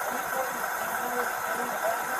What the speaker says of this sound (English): there's some type of rattling, it sounds like over in here, and then there's obviously your engine